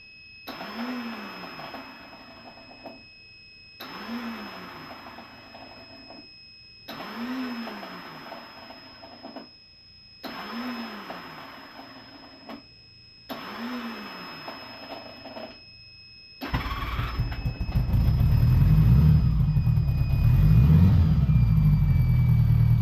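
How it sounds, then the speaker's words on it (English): A 1977 Honda GL1000 motorcycle's starter fails to engage: five separate whirring spin attempts, each a couple of seconds long with short pauses between, followed by a louder, rougher rumbling mechanical noise near the end. "Now the starter's failing to engage."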